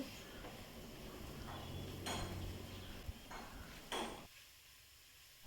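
Bitter gourd sautés in a pan with a steady soft sizzle, broken by a few sharp scrapes and clinks of a spatula stirring against the metal.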